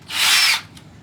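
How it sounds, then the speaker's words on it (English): A power drill pre-drills a hole in the wooden back of a pallet bench, giving one loud, steady half-second whir close by that then stops, with no voices. "pre-drill these"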